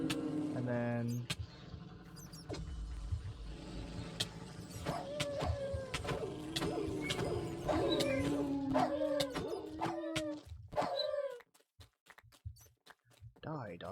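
A dog-like enemy in a Pokémon-style monster-catching game yelps and barks in a run of short cries during combat, set over steady game music and effects.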